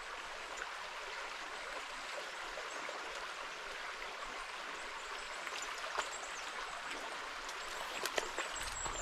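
A small river flowing through Thrunton Woods in Northumberland, a continuous soft rush and trickle of water with faint splashes, steady and moderately quiet with no talking.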